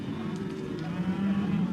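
Cattle on a Queensland cattle station give a low, drawn-out moo, fairly close and clear over faint outdoor background.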